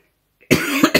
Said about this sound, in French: Je suis désolée, je tousse.